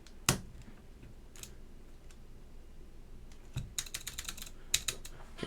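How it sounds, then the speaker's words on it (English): Stabilized keys on a custom mechanical keyboard with Alps SKCM White switches are pressed: a few scattered loud clacks, then a quick run of rapid close-up keystrokes, with no talking. "I want to test my stabilized keycaps"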